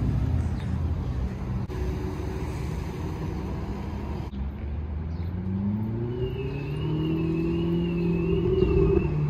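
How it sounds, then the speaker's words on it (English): A police car pulls away on a road during a supercar cruise. Its engine rumbles steadily and rises in pitch as it accelerates. No one speaks. "There goes the cop."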